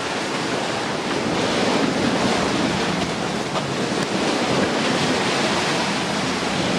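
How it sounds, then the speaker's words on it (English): Big ocean waves and strong wind, around 15 to 20 knots, batter a sailing yacht with reefed main and genoa, a dense continuous roar of surf and wind noise. "Yeah, pretty big waves."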